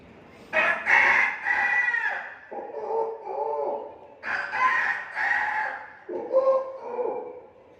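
A human voice imitates a rooster crowing twice, each long, rising-and-falling cock-a-doodle-doo call loud and close, with a short pause between.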